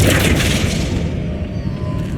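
A Flipendo spell strikes in Hogwarts Legacy, landing as a loud, booming impact at the start, then a rumbling crash that slowly fades over the next two seconds.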